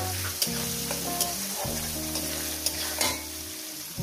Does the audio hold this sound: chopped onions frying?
yes